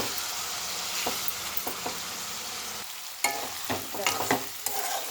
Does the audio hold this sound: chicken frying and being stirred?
yes